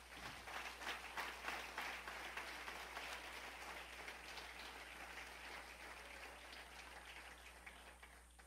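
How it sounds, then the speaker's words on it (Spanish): A church congregation claps together in a long, dense, steady wave of applause heard from within the crowd, with a constant low hum underneath. "Dale un fuerte aplauso al Señor."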